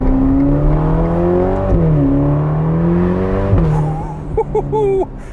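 A Ferrari Portofino engine revs and shifts gears, its pitch climbing and dropping repeatedly, loud and close, ending with sharp blips of throttle.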